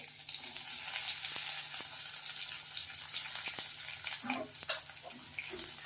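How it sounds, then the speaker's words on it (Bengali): Thinly sliced onion frying in a wok with black cumin seeds, a steady soft sizzle with occasional stirring clicks, moderately close and continuous, with no talking. "তারপরে ঝিরিঝিরি করে কেটে রাখা পেঁয়াজটা দিয়ে দেব কড়াতে"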